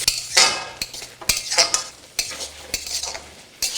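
Tomato with ginger, garlic and green chili paste stir-fried in a pan for masoor dal, a spatula scraping and clattering in irregular strokes over a soft sizzle, close and fairly loud with no talking.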